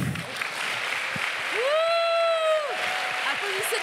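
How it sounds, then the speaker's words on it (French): Film festival premiere audience applauds for the director, a steady patter of clapping running under a sustained vocal cheer or call in the middle. "Applaudissez notre metteur en scène."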